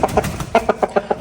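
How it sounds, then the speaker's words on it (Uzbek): A large rooster, a Turkish breed kept at Namangan, makes a rapid run of about eight clucking calls, close and loud, in a steady rhythm. "Katta xo'roz bu"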